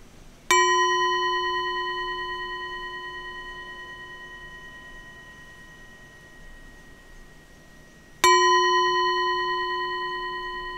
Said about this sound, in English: So I want to close with ringing the bell.